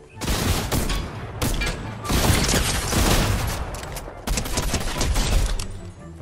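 Repeated shotgun blasts and rapid gunfire in a Fortnite Zero Build match, loud and dense, booming close throughout the clip with only short gaps between volleys.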